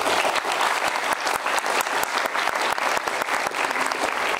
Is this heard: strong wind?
no